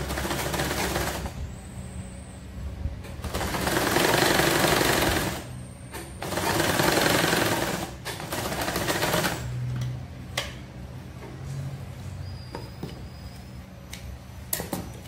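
Sewing machine stitching a half-inch seam on a short circle dress, running in several sustained bursts of steady whirring with brief pauses between them, close and fairly loud with no talking.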